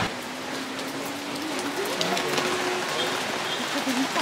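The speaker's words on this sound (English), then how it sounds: "So it started pouring down with rain again." Steady broadband hiss of heavy rain pouring down at a market in Kandy, Sri Lanka, dense and constant, with faint scattered droplet patter throughout.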